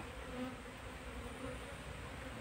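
A dense, steady buzzing of an Asian honey bee colony fills the clip, continuous and close, with no voices.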